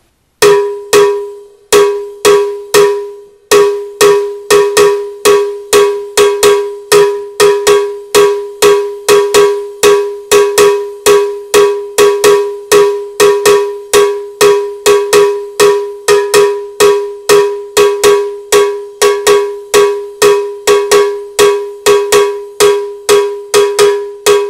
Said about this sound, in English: I'm going to actually play the bell pattern for Bembe, and it sounds like this.